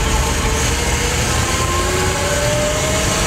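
An old GM truck with a manual straight-stick transmission runs steadily, a loud, continuous low engine drone with a faint rising whine, close by and with no talking.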